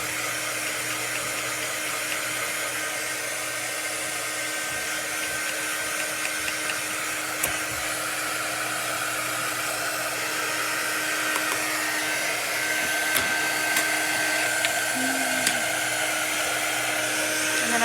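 A hair dryer runs continuously, drying chalk paint on wooden farm sign cutouts in a craft session, giving a steady, loud whooshing drone with faint small clicks and no voices.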